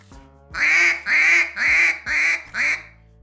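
Five drawn-out, low-toned quacks from a hunting duck call imitating a coarse duck, blown with reduced air pressure, loud and close with steady spacing.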